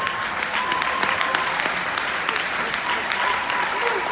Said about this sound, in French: je comprends toujours pas pourquoi les gens applaudissent